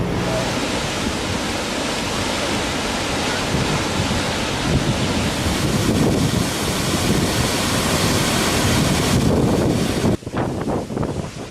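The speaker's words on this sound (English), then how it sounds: "Wow, this waterfall is huge and it's really cold here." Large waterfall in the mountains of Austria, a loud constant roaring rush of falling water heard close up, with wind buffeting the microphone and a brief knock near the end.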